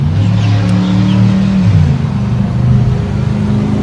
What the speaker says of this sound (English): here we've got our Cummins X15 Efficiency Series engine with 500 horsepower and 1850 torque